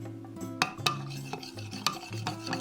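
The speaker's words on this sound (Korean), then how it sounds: "물 1컵 준비하고 밀가루는 3분의 1스푼 넣고 잘 풀어준다." Spoon stirring flour into a cup of water to dissolve it for a spicy soft tofu stew broth, soft swishing with a few sharp clinks against the cup.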